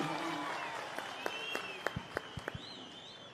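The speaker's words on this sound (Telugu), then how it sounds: "గట్టిగా చప్పట్లు కొట్టి చిన్నారిని ఆశీర్వదించండి" An audience at a public event with Chandrababu claps for a young schoolboy after his speech. The applause is faint and sparse, with a few distinct hand claps rising near the end.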